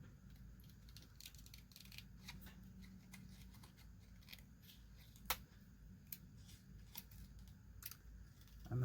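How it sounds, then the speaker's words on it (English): Scissors snip paper while fussy-cutting around a printed image, giving faint close crisp clicks at an irregular pace, with one sharper snip near the middle, in an otherwise quiet room. "So, I'm just cutting around here."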